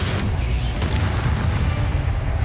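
Bombarda spell blast in Hogwarts Legacy, a dense, sustained low rumble of explosive booms with heavy bass filling the whole moment, loud and continuous without a clear pause.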